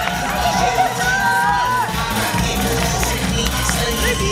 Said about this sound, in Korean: 우리 선수에게 자 응원의 박수가 필요합니다.